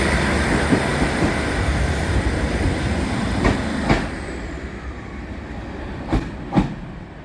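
A special passenger train runs past at Heaton Traction Maintenance Depot open day, a steady loud rolling rumble with rhythmic wheel clicks and a few sharp clanks near the end, no voices.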